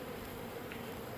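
A package of honeybees buzzes steadily while being installed into a hive, a soft continuous insect drone that stays even and fairly faint throughout.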